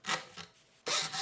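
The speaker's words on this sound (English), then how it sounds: "Sawing it in half." A saw rasps through a small metal locket in two quick, close strokes separated by a short pause, bright and scratchy with no talking.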